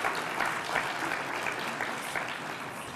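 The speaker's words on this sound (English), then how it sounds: "I guess I'll clap for that." Sustained applause from the audience at the 2015 WaterSmart Innovations awards luncheon, a dense steady wash of many hands clapping at moderate distance without pause for the full few seconds.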